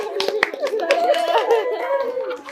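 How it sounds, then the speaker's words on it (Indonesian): A group of people clap their hands during a workshop session, a short run of quick, close claps mixed with voices and light chatter. "boleh tepuk tangan buat kita semua"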